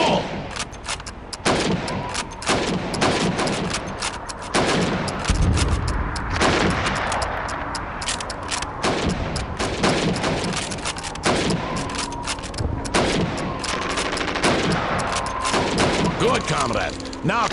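Rifle shots ring out at helmet targets on a Call of Duty 2 training range, a rapid, irregular series of sharp cracks across the whole stretch over constant background game sound and faint voices.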